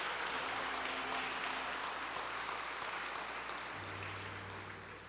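A church congregation claps together in sustained, dense applause that fills the space evenly and fades slightly toward the end, with a low hum beneath and no clear talking.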